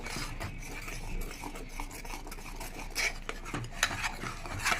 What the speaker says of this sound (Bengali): এটাও কষতে থাকবো